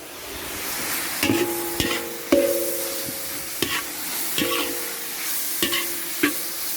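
Spaghetti is stir-fried in oil in a pan, with a steady sizzle under repeated scraping and clanking strokes of a utensil against the pan, close and moderately loud.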